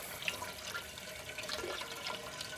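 Water from a GrowoniX EX1000 reverse osmosis system with its flush valve open runs steadily to drain, a faint continuous hiss and trickle with no voices.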